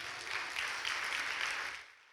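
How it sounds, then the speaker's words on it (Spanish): A church congregation applauds, a faint, distant wash of clapping that holds steady for about two seconds and then fades out. "¿Cuántos pueden dar un aplauso al Señor?"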